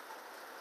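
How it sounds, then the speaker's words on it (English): Heavy rain falls outside in a dense, steady hiss, heard faintly from indoors with no break. "I don't know whether you can hear the rain here. It's horrendous."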